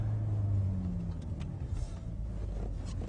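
A Mercedes 190E in second gear through a U-turn at a bus interchange, a low steady engine rumble heard from inside the car, with no talk.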